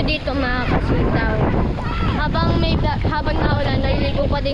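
Strong storm wind gusting at a rainy outdoor outing, a loud continuous rush and buffeting close to the microphone, with people talking and calling out over it throughout.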